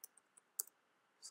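A few sharp, isolated key clicks from a computer keyboard as a terminal command is typed, faint and irregularly spaced with quiet gaps between them.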